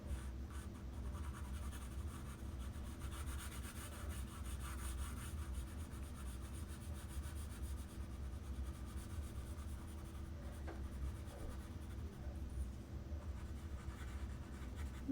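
A pencil drawing an eyelid line on paper, a faint, steady scratchy rubbing of graphite across the sheet, close and quiet throughout.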